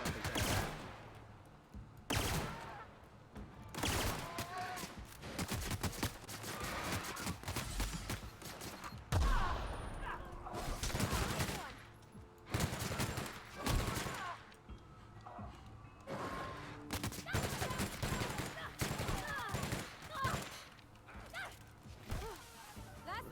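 Gunfire in The Outer Worlds, with scattered loud shots and bursts broken by pauses, alongside groans and sighs from a voice over the action.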